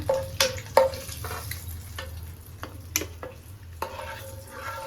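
Eggs frying in oil in a pan for egg biryani, a steady soft sizzle with scattered sharp clinks and scrapes of stirring, close and fairly quiet, no voices.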